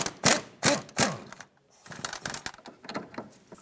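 A ratchet with a 15mm socket clicks in three quick loud bursts loosening a sway bar link bolt on a 2001-2003 Lexus ES300, followed by lighter rattling and clinking of tools and parts nearby.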